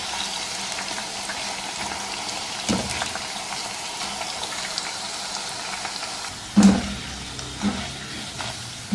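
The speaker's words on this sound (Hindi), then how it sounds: "ये देखिए, चिप्स फ्राई हो चुके हैं।" Thin sliced potato chips deep-frying in hot oil with a steel spoon, a soft steady bubbling sizzle with a few louder scraping clatters from the spoon.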